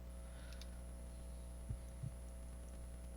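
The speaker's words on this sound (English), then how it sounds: "I need to concentrate and count the heartbeats." A weak, slow heartbeat in a Sherlock Holmes video game, around 50 beats per minute: two soft low thumps over a steady electronic hum, faint and sparse with no talk.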